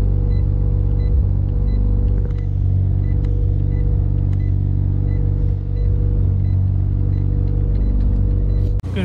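A car engine idles steadily after a burnout, a loud, close, continuous low rumble with a constant hum that runs unbroken through the whole stretch.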